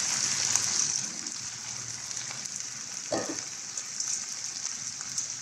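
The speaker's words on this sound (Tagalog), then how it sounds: "Konti lang pong lagay natin dito ng tubig kasi nagtutubig naman siya." Water poured into a pan of sautéed bottle gourd with sardines, a steady hiss and sizzle throughout with a brief splash and bubbling burst near the middle.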